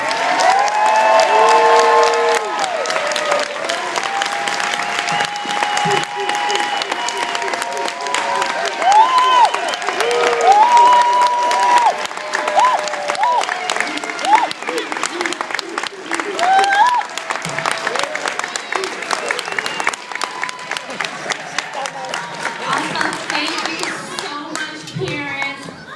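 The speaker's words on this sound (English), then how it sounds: "Let's give them another round of applause." An audience applauds and cheers loudly and continuously after a children's Black History performance, with someone speaking over the clapping and children's voices mixed in.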